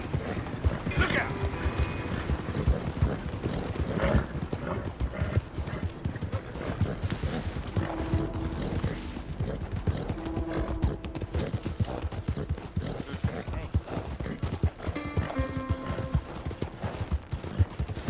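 Steady clip-clopping horse hooves trot on without pause, with occasional clanks and short tonal game-like effects layered over the rhythm, in the video game Red Dead Redemption 2.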